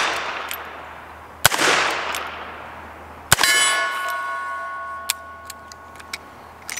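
A Ruger Security Six revolver firing 158 grain .38 Special rounds at a steel hostage popper target outdoors: two sharp shots, each answered by a ringing metallic clang, then light ticking and pings as the target settles.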